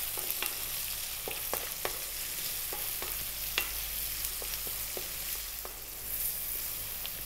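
Onions and cumin seeds fry in a pan over above-medium heat, making a steady close sizzle with occasional stirring scrapes and pops, and no one speaking.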